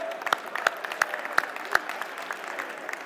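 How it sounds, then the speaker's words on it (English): An audience at a DEF CON magic show claps for a volunteer joining the stage, a fairly sparse, brief round of applause with a few sharp, distinct claps standing out, fading toward the end. "Give him a round of applause, everybody."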